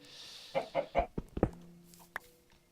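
Chickens in the Minecraft video game clucking in a short run of quick, distinct calls followed by a few scattered clucks, fairly quiet and without talk.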